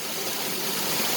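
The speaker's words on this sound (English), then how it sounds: "Some splashing happening on this rock." Water from a backyard pond waterfall splashes steadily onto a rock, a close, continuous broadband rush with no voices.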